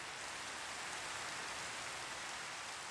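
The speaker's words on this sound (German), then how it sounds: "Zwischendurch mal Regen ist ja gut, aber doch nicht so lange." Steady rain falls in the game Minecraft as an even, continuous hiss that stays at the same level from start to finish, with no voices.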